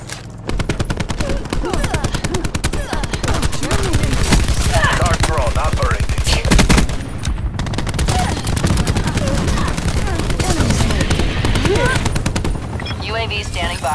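Rapid automatic fire from the Peacekeeper weapon in Black Ops 4, long sustained bursts of sharp, loud shots with brief gaps, mixed with game effects and occasional voice lines.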